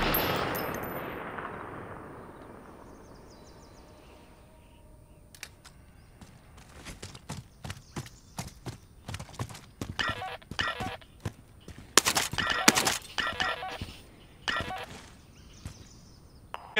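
Gunfire at practice targets in Call of Duty Warzone, a weapon mounted on cover: after a few quiet seconds, a rapid run of loud, sharp shots in bursts and single cracks, close and dense, with no talking.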